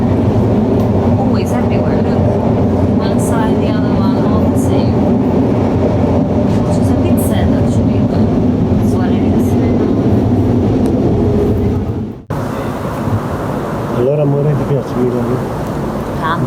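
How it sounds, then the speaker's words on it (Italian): A Milan metro train is heard from inside a moving carriage: a loud, continuous rumble and rattle that suddenly drops as the train slows. Faint voices are heard beneath the noise. "Adesso siamo in metro, vi volevo far vedere"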